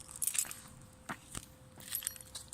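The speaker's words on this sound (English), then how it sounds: "Where are my keys at? Here are my keys at." A bunch of keys jingles faintly in short metallic clinks and rattles, with a couple of louder knocks, heard near the car outdoors against a steady background hum.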